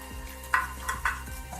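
Garlic-ginger paste and tomatoes frying in a pan while being stirred, a soft, steady sizzle broken by a few short scraping strokes of the spoon, close by with no voice.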